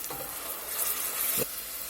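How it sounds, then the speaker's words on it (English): Onions and garlic sauté in olive oil in a pan, a steady close sizzle with a couple of soft stirring scrapes, no talk. "these have been sauteing in that olive oil there a few minutes. We're going to go in with the garlic."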